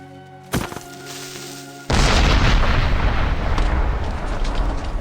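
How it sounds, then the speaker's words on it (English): An explosion in Minecraft begins with a brief thump, followed about a second later by a loud, sudden boom that rolls on as a dense, rumbling roar to the end. "That was a cool explosion sound, though."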